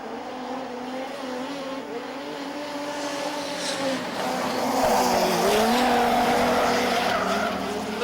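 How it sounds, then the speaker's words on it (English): Modified production race cars, a Mazda RX-7 among them, circle Maryborough Speedway with loud engine drone and tire squeal swelling as they close in, heard without talk. "RX-7 is flying out in front."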